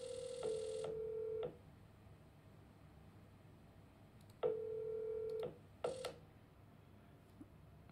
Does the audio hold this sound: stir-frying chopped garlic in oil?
no